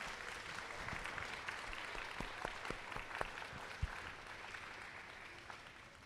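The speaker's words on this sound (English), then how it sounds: "Let's give them another round of applause." An audience at a kindergarten celebration gives a round of applause, a soft, distant patter of clapping with a few sharper individual claps standing out, steady throughout and quiet overall.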